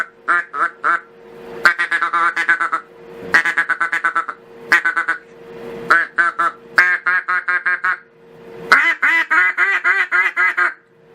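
Close, loud quacking comes from a hand-built duck call, blown in repeated rhythmic runs of sharp, raspy notes, each series separated by short pauses, with no voices.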